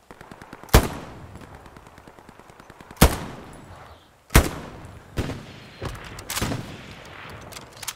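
Gunfire from rifles and machine guns in Hell Let Loose, a WWII shooter, rattles in rapid bursts. Four heavy, loud shots punch through a steady crackle of distant automatic fire.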